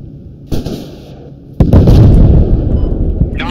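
Tank cannon shot striking an enemy tank in the video game Squad: a sharp blast near 0.5 s, then a heavier, louder explosive boom at 1.6 s that rumbles and lingers to the end.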